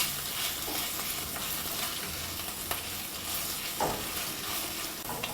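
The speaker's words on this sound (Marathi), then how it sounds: "आता ही आलं लसूण पेस्ट 1 मिनिटभर आपण परतून घेऊयात" Ginger garlic paste with green chili pieces sautéing in a pan, giving a dense, steady close-up sizzle with a few soft stirring scrapes.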